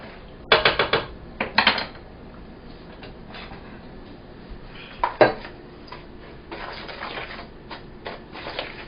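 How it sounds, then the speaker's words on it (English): Dates stirred in a pot on the stove, a spoon knocking and scraping against the metal in clustered bursts with quieter gaps, close by and without talk. "We're going to stir the dates so that they don't burn."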